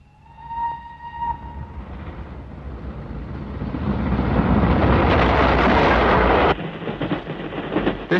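A fast train on a downline railway track rushes past, building from a distant rumble to a loud, roaring passage of wagons, with a horn sounding early on.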